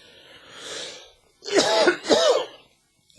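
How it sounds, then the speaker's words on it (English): A man coughs twice in quick succession close to a condenser microphone, each cough harsh and loud, after a softer breathy throat sound at the start, then quiet. "the minute I start talking, I have to cough a million times"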